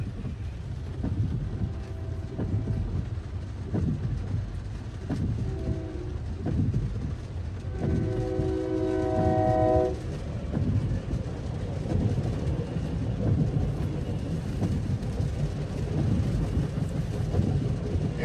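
A five-car commuter train rumbles past at close range with a steady low roar, a horn-like tonal blast sounding midway through.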